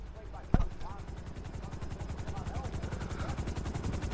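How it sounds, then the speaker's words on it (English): A steady, rapid rotor thump of a helicopter in Grand Theft Auto V fills the scene, with a sharp bang near the start and faint voices beneath. "There's the helicopter."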